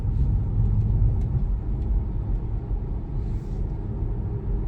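A Tesla driving on FSD Beta accelerates gently, giving a steady, moderately loud low road rumble and muted drivetrain hum throughout, with no one talking.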